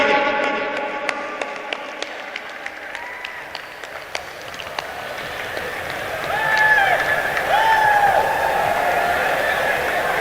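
A crowd at a road inauguration ceremony for a minister breaks into applause, a broad wash of clapping and cheering that swells toward the end, with a voice over a loudspeaker audible beneath.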